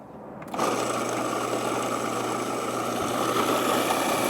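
A food processor starts up abruptly and grinds arugula, pistachios, parmesan and extra virgin olive oil into pesto, a loud, steady motor whir with a gritty churning texture that holds unbroken to the end.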